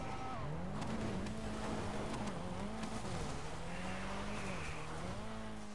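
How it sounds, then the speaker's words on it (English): A car engine in GTA 5 bouncing off the rev limiter, a buzzy high-revving drone that wavers and stutters continuously at a steady loudness, mixed with game noise and some tire squeal. "This thing just got rev limiter like crazy"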